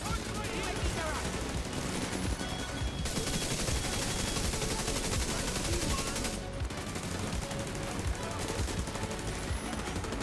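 Sustained assault rifle fire in The Division 2, loud, dense automatic bursts pounding nearly without pause, with short breaks about three and six and a half seconds in, plus other game sounds layered in.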